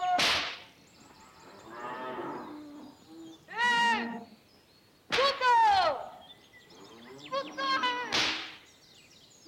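Cows being herded give several loud, drawn-out moos, overlapping and close, with sharp cracks between them.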